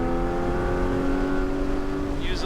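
Porsche's cheapest GT car pulls hard on a track, its engine note a loud, steady, close drone that climbs under acceleration, with a faint higher squeal near the end.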